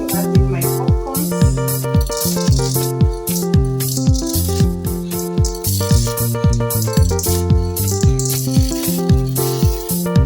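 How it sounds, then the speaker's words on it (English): Popcorn kernels rattle and skitter in a pan, a dense, loud, continuous clatter with steady rhythmic pulses throughout. "at this point, I'm going to add in my popcorns"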